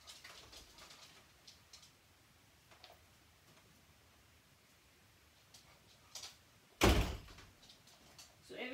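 A heavy door swinging shut with a single loud slam near the end, following a quiet room tone dotted with faint ticks and soft bird calls in the background.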